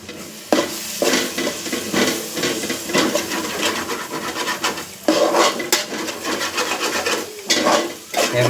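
Mutton masala being stirred in a pan, a steady scraping and rubbing of the spoon against the pan over a continuous sizzle, with repeated strokes close and loud and no voices.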